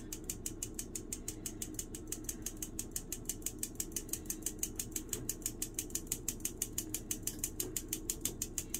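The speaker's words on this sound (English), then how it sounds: "All right, so let's sift our dry ingredients." A hand sifter works dry baking ingredients such as flour for a holiday Yule log cake, giving a steady run of rapid, evenly spaced clicking cranks close by with no talk.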